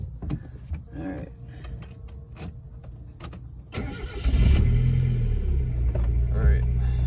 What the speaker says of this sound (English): So I'm gonna start the car and we're gonna go for a drive